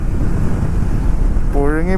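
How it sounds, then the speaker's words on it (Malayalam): Steady wind roar buffets the microphone throughout a car ride in Goa, loud and constant, with a brief voice emerging near the end. "കാറ്റടിച്ചിട്ട് എന്ത് സുഖം"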